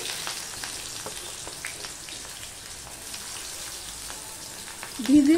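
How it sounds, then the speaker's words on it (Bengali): Chopped onions frying in a pan for a ridge gourd and potato dish, a steady soft sizzle with faint crackles running throughout, rising briefly louder near the end. "তার জন্য আমি পেঁয়াজটা প্রথমে দিয়ে দিচ্ছি।"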